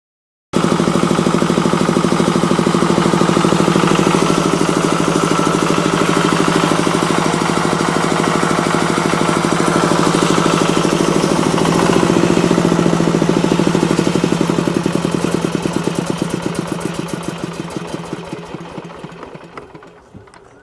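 A small engine runs right after a piston and head gasket repair, a loud, steady rapid chugging idle that holds for about fifteen seconds, then fades and slows toward the end.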